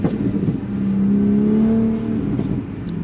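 A supercharged Audi S5 engine holds a steady rev around 3000 rpm, its whining drone rising slightly then easing back, close and alone with no talk.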